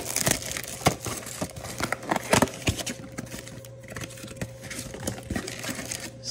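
Scissors cut open the plastic wrapper on a 2023 Topps Chrome trading card blaster box, giving close, busy crinkling and crackling with sharp snips and tearing bursts, no talking.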